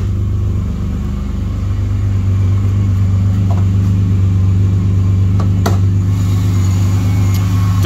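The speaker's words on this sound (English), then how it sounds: "it does have some exhaust leak down there by the muffler" A 2005 Pontiac Grand Prix sedan's 3800 engine idles steadily with a low, throbbing exhaust drone and a raspy puffing edge from an exhaust leak at the muffler, close and loud, with a few faint clicks.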